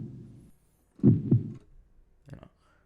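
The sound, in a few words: heartbeat sound effect from Bismark bs-16i app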